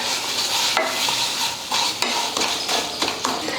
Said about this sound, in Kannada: ಈಗ ನೋಡ್ರಿ, ನಾ ಬೆಲ್ಲ ಕರಗಿಸ್ಕೊಳಕತ್ತೀನಿ. ಲೋ ಫ್ಲೇಮಲ್ಲಿ ಇಟ್ಕೊಂಡು ಕರ್ಸ್ಕೊಂಡಿನಿ.